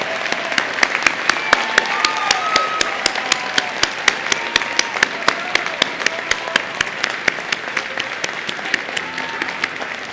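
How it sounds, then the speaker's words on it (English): A graduation audience applauds the December 2019 graduating class of Piedmont Technical College, with dense, steady clapping filling the hall throughout and no break. "Please join me in applauding all members of the December 2019 graduating class of Piedmont Technical College."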